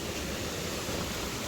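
Waterfalls cascade down a mountain in the sierra, giving a steady, dense rushing roar of falling water with no breaks.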